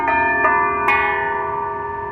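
Hanging gamelan-style bells, bronze pieces strung from a rope like a bell tree, strike three times in quick succession, each hit ringing out loudly with a bright metallic shimmer that sustains and slowly decays.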